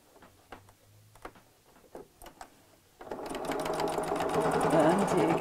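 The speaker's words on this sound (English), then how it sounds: "I'm going to top stitch just across that seam to hold the layers together" A sewing machine top stitches across a bulky seam of layered chenille fabric on a clutch bag, starting with a few soft ticks and short bursts before settling into a steady, loud, continuous whirring run of stitches.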